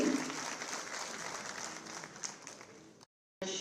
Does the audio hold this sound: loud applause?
yes